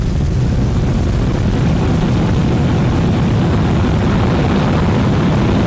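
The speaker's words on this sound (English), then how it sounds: "We have liftoff." A Starship rocket lifts off on its second integrated flight test, a loud unbroken rumbling roar heavy in the low end that stays steady and overwhelming throughout, with no voices.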